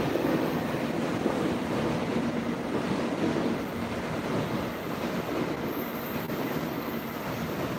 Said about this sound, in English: Shinkansen's going the other way now.